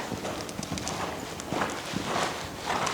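A horse on a lunge line during a riding lesson, its hooves making a quiet, regular clip-clop on the ground, fairly faint, with a voice in the background.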